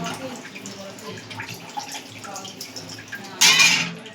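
Plain water poured into sour fish curry in a pan, a short bright splash near the end after a stretch of quieter kitchen sounds with faint voice.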